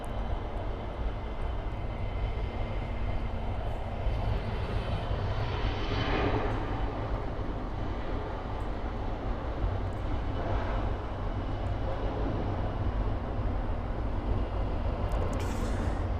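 A Qatar Airways Airbus A350-1000 at pushback at Miami airport, its engines giving a loud, steady, broad roar that holds through the whole stretch with slight swells, close by and free of speech.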